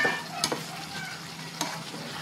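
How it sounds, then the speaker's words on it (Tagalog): Pork pigado stirred in a hot pan, with a spoon scraping and clacking twice against the pan over a steady close sizzle of frying meat, and no talk. "Dili pwede di ta maghalo. Halo gihapon ta."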